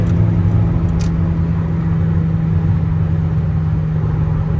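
Engine of a 1987 Toyota MR2 holding about 100 in fifth gear near 5,000 RPM, a steady droning hum with road rumble heard from inside the car, unbroken and fairly loud.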